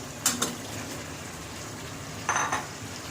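Potatoes are stirred into beef curry in a pot, with two brief scraping clinks of a spoon against the pot over a faint, low simmering sizzle.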